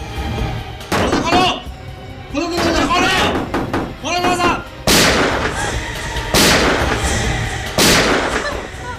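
Gunshots ring out in a CID TV crime drama, several loud sharp blasts fired in quick succession with more bangs following, interleaved with door-like thuds and slams.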